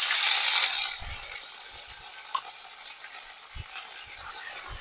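Onion, chili and ginger paste hits hot oil in a kadai, giving a loud initial sizzle that settles into a steady frying hiss, with a few soft stirring knocks underneath.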